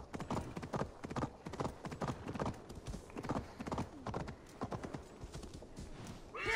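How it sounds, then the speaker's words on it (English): Horse hooves clip-clop in a steady, brisk rhythm as a mount rides up a mountain road in the video game Assassin's Creed Valhalla, close and continuous, with a brief whinny-like flourish near the end. "So I'm gonna just use my horse for a little bit."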